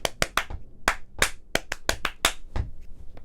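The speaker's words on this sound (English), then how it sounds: "clap out the rhythm that you're working on or tap it out on your lap" Hands clap out a brisk sixteenth-note rhythm, about a dozen sharp, close claps in quick uneven groups with short gaps between, no talking.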